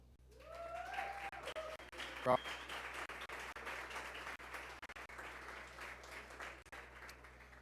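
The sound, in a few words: audience applauding guests from Google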